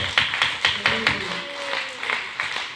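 A church congregation claps for Jesus during a sermon, a handful of sharp, fairly spaced claps at first, then softer scattered ones, with a faint voice underneath.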